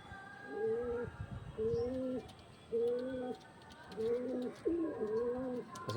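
Loft pigeons, including a handled female, give about five or six deep rolling coos in a regular rhythm, each call a clear, close, resonant phrase separated by short pauses.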